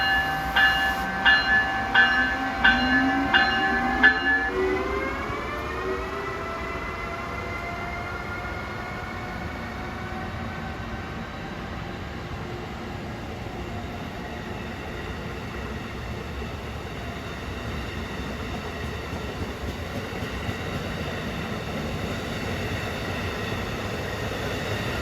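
An Amtrak train passes at speed through Princeton Junction: a horn chord blares briefly at the start, then a long, loud, steady roar of wheels and cars rushing by fills the rest, with no voices.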